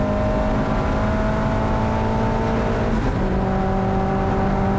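Turbocharged Mazda MX-5 accelerating hard down a race circuit's back straight, its engine note loud and steady from onboard, pitch climbing, dipping briefly at a gear change, then rising again.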